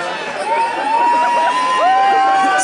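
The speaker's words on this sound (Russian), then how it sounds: "кричат от радости в основном девчонки" Girls scream with joy in a crowd at a live concert at a motorcycle festival, a loud, sustained chorus of high-pitched shrieks and whoops with rising and sliding cries.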